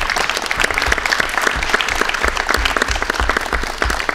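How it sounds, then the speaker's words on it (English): Audience at a school athletic signing giving a steady round of applause, dense even clapping from a room of people lasting throughout. "let's give Kristin a big round of applause"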